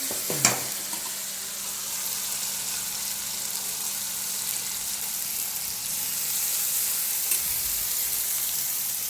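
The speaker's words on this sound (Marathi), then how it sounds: "गोलमो भाजून घेऊया पहिल्यांदा त्याला. तेलात भाजून घे बरं." Dried prawns (golmo) roasting in hot oil in a pan, giving a steady close sizzle and hiss throughout, with a sharp crackle right at the start; no one speaks.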